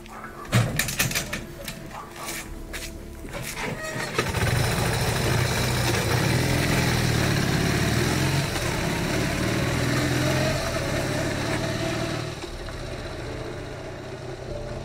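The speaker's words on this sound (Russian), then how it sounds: "По разбитому асфальту туда-сюда гоняют мотоциклы" Motorcycles run back and forth along a broken asphalt village road: a few sharp clatters come first, then a loud, steady engine drone swells and holds before easing off.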